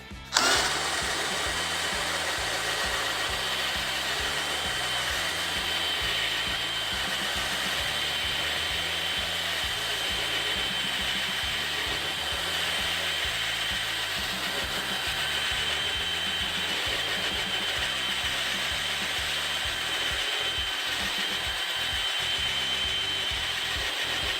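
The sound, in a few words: DeWalt 18V brushless hammer drill boring Forstner bit into wood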